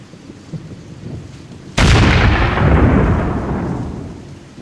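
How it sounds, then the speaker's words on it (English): Impact grenades in the game Hidden & Dangerous Deluxe go off in a single loud, sudden blast after quiet ambience, with a long rumbling decay fading over several seconds. "I remember, Myron, these are impact grenades."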